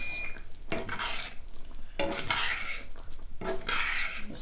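Sausage gravy being stirred in a pan: a spoon scrapes and clinks against the metal in several distinct bursts, close and fairly loud, with a faint sizzle between strokes.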